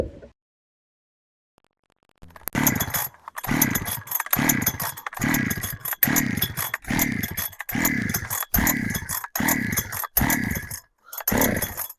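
Husqvarna 372XP chainsaw, freshly fitted with a genuine carburetor, being pull-started: after a short silence comes a run of about nine loud, rhythmic cranking bursts with sputtering catches, close and without speech.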